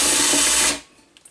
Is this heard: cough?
no